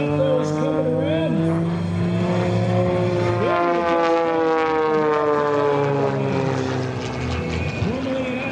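A small aerobatic airplane performing repeated snap rolls at an airshow, its propeller engine droning loudly and steadily with shifting pitch, while a commentator talks over it throughout.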